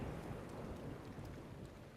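Rainstorm in the video game Breath of the Wild: an even wash of falling rain with a faint low thunder rumble and wind beneath it, steady and unbroken, with no talking.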